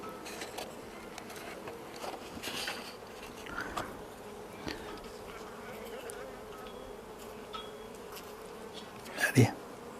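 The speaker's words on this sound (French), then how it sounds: "avec le peu d'abeilles qu'il y a dedans, il faut que ce soit quand même très calme" Honeybees buzz softly around a small mini-plus hive, a steady low hum with occasional closer passes, one louder bee sweeping by near the end.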